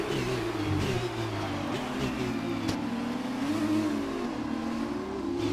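Race car engine in F1 2020 gameplay revving steadily with shifting pitch as the throttle stutters out of a corner, a continuous loud whine with no talk.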